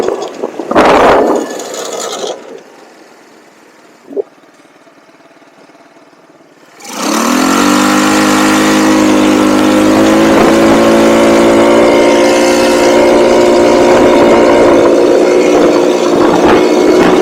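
A cheap off-road buggy's small engine starts up loud and then runs steadily, holding a droning, fairly constant tone during a ride, with faint noises in the quieter stretch before it kicks in.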